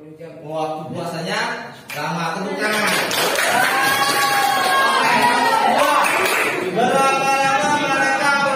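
A classroom of students applauds and cheers, clapping and excited voices swelling into a loud sustained crowd roar, preceded by a brief stretch of speech.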